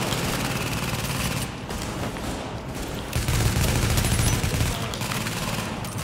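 Rapid automatic gunfire rattles on and off in Tom Clancy's The Division during a fight in a shopping mall, dense volleys at moderate level, with a heavier burst in the second half.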